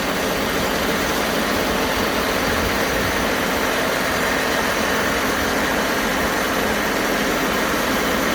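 A Timberking 2220 sawmill engine running steadily at about 1800 RPM, a loud continuous mechanical drone with broadband noise and no change in pitch, heard alone without talk.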